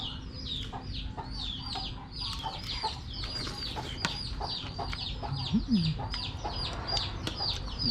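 Several chickens clucking on and on, with many short overlapping calls in a busy, continuous chorus at moderate distance.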